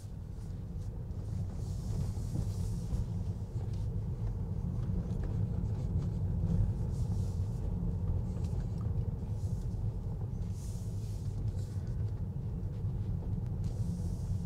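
Steady low rumble of a Tesla car driving out of a parking lot, heard from inside the cabin as a constant road and motor hum throughout, with no talking.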